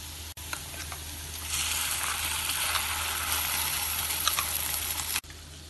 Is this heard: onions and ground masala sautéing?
yes